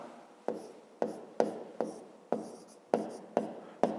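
A pen scratches on a notebook page as a math solution is written, eight short sharp strokes in an uneven rhythm, close and quiet, no talking.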